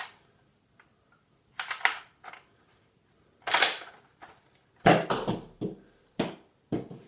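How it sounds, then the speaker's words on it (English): An X-Shot Chaos toy blaster fires ball rounds, giving about half a dozen sharp, close snapping shots at irregular intervals with near silence between them. "So now that I fired a few rounds off it, it seems to be shooting a lot better."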